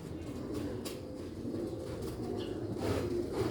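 Sialkoti pigeons cooing in low, steady murmurs with a constant background hum and no talking.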